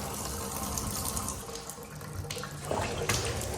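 Hot water runs from a bathtub faucet in a newly built house with a hot-water fault, a steady close splashing flow that shifts slightly toward the end.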